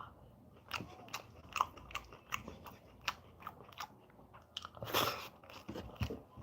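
Someone eats a lunch meal up close, with repeated crisp crunches and chewing bites in an irregular rhythm, a louder cluster near the end; no talking.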